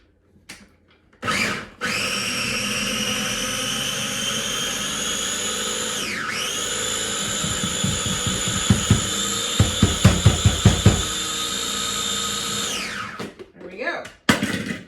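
A food processor whirs loudly and steadily while pulsing garlic and onions, its motor pitch dipping once under load, with rattling chops of food inside before it winds down.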